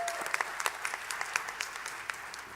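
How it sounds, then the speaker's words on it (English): Sustained applause from an audience at a city council reorganization meeting and mayoral swearing-in, a steady dense patter of clapping heard at a distance without speech. "we can give her a round of applause"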